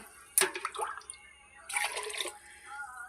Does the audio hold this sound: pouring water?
yes